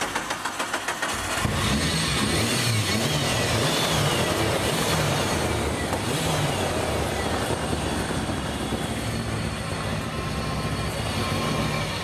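A rally car engine roars loudly and continuously after a brief start, revving hard with a rough, aggressive tone close to the microphone.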